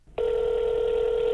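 A steady telephone tone starts abruptly and holds, loud and close, the kind heard when placing a phone call, with no voices.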